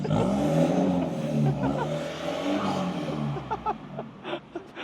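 A four-door Isuzu pickup truck with a manual gearbox revs its engine up and down in close, loud surges that rise and fall, then fade into scattered softer sounds. A person talks briefly.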